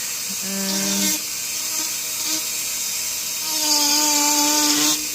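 A Dremel rotary tool carves wood, its high whine rising in short bursts near the start and again toward the end, with quieter grinding between.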